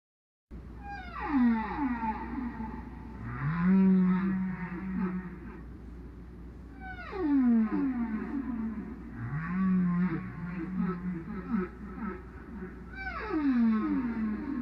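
Humpback whale song off California: long, sweeping moans and rising whoops repeat in phrases about every three seconds, with upsweeps and low groans over a steady underwater hiss.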